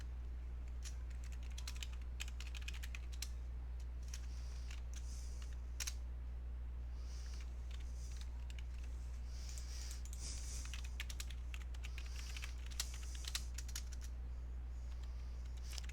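Clicking keys on a computer keyboard during Roblox play, a close, quiet run of irregular taps spread across the whole stretch over a constant low electrical hum.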